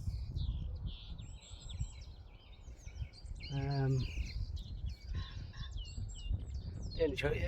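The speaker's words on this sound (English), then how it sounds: "Just getting deafened by bird song." Dense birdsong fills an open field at a campsite, many overlapping chirps and warbling calls continuing throughout over steady low background rumble, loud and close, with a brief burst of tonal calls midway.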